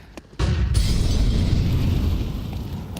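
A grenade goes off in a Counter-Strike match, a sudden loud boom near the start that rolls into a long, dense rumbling roar sustained to the end.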